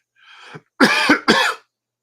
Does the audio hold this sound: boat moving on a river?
no